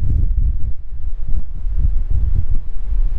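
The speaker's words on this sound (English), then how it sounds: "if you can hear this because it's blowing a gale up here" Strong gale-force wind buffets the microphone in a sheltered hollow in remote southeastern Western Australia, a loud low roar that surges and dips unevenly without talk.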